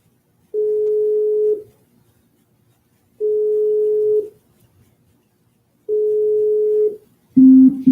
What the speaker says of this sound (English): Line is busy.